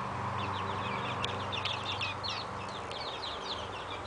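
Barred Rock chickens in a backyard give soft, scattered clucks and chirps over a steady outdoor hum, faint and somewhat distant with no talking.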